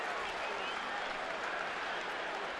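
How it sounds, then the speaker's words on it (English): A baseball stadium crowd at a Giants vs. Dodgers game applauds and cheers in a dense, steady roar of clapping, with a voice talking faintly over it. "this crowd that really is on the edge of their seats waiting to cheer, and they did"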